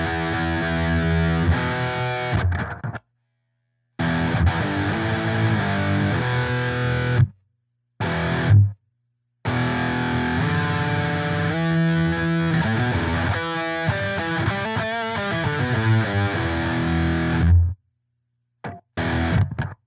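Distorted electric guitar run through a Pigtronix Gate Keeper noise gate pedal, loud chords and riffs that cut to dead silence in sharp gaps as the gate closes, with no voices.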